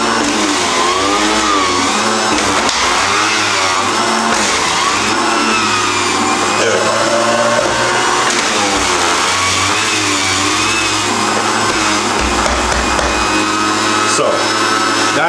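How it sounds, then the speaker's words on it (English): A juicer runs steadily for the whole stretch while ginger goes through it for a sobolo drink. The motor whine is loud, close and constant, with shifting tones as the load changes. "I got this awesome juicer, so I just like to run things through my juicer"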